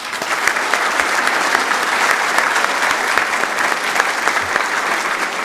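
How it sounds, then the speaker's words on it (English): A crowd at the Asian Apprenticeship Awards Night 2016 applauds the nominated apprentices, with loud, even, continuous clapping filling the hall without a break. "So, round of applause to all of them."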